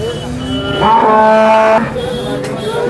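A cow at the Sangola cattle market lets out one loud, close, drawn-out moo lasting about a second, over a background of market murmur.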